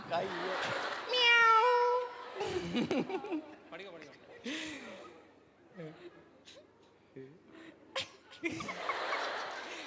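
A person imitates a cat, giving drawn-out meowing cries several times up close, with breathy noises and a little talk between them.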